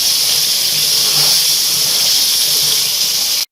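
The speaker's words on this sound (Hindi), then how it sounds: "कसूरी मेथी डालने के बाद भी मैंने इसको 2 मिनट तक अच्छे से भून लिया है" Chicken masala with kasuri methi roasts in a pan, giving a loud, steady, close sizzle and hiss that holds evenly for a few seconds before stopping abruptly.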